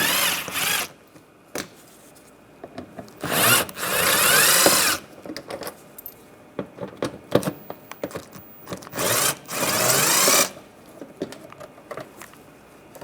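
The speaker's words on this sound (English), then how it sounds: "we're going to take these Phillips head screws out. Just use a Phillips head screwdriver." A Phillips head screwdriver backs screws out of the side panel by the fender liner on a 2010-2016 Cadillac SRX, giving several close, loud bursts of grinding and scraping separated by small clicks and handling noises.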